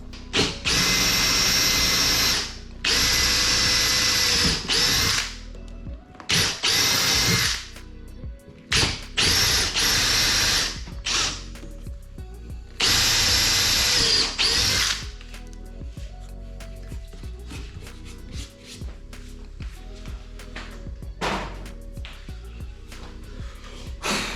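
A power drill whines loudly in several bursts of a few seconds each, drilling holes out to 6.5mm in plastic during a fish finder installation, separated by short pauses, followed by quieter clicks and handling noises.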